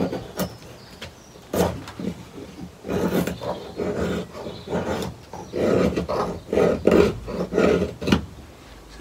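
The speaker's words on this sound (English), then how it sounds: "So just keep going at that until you remove all the bark all the way around." A Swiss Army knife strips bark from a wooden slingshot frame, pushed away from the body in repeated rasping scrapes, close up and alone, in an irregular rhythm of short and longer strokes.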